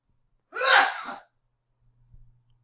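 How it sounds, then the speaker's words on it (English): A single sharp human sneeze bursts out loud and close, followed by a brief faint rustle and a low hum, with no speech. "I gotta sneeze."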